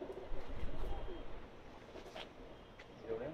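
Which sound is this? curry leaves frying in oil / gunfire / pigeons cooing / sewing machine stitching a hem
pigeons cooing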